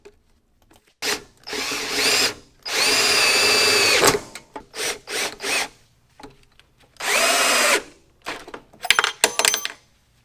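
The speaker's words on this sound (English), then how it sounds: "I used some self-tapping screws to hold the aluminum piece to the framing" Power drill driving self-tapping screws through an aluminum piece into building framing: several close, loud whining bursts, two lasting over a second, separated by short clicks, rattles and handling noise.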